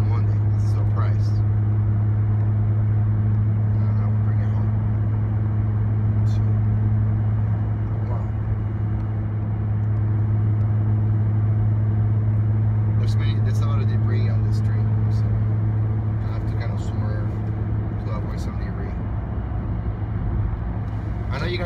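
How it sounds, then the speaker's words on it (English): Non-stop road traffic heading from Olympia and Lacey towards Tacoma makes a steady wash of engine and tyre noise. Occasional passing vehicles rise briefly above a constant low hum. "Traffic from Olympia and Lacey towards Tacoma."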